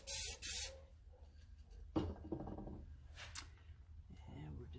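Clear coat sprays onto a painting in two quick hissing bursts near the start, followed by quiet handling sounds and a voice speaking.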